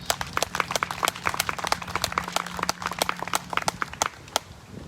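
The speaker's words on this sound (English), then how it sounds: "Please give them a round of applause." Audience applause at a press conference, a sparse, modest spattering of individual hand claps from a small group, fairly faint and irregular, with a steady low hum underneath.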